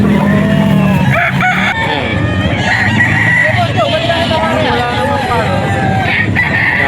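A hennie rooster at a crowded gamefowl seller's area crows loudly and close by in a long, wavering call, with other fowl clucking and people talking over it.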